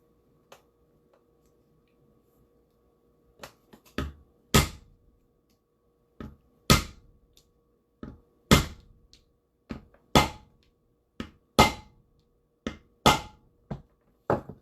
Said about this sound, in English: Nice little rivet setter. Let's set it from this side.